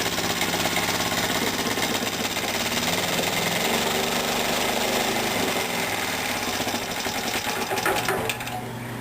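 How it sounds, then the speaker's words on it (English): A Roto Ette engine fitted with a low-tone muffler and an older-style oil bath air filter runs steadily and close by, giving a dense, even mechanical chatter that holds for the whole stretch with no talking. "I put a low-tone muffler on this engine."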